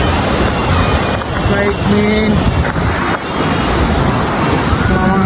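A waterfall in Kerala roars with dense, continuous rushing water and wind buffeting the microphone, while a person talks over it.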